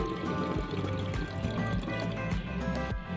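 Water that has soaked sago pearls being poured into a household spray bottle meant for ironing, a steady continuous trickle heard close up for a few seconds.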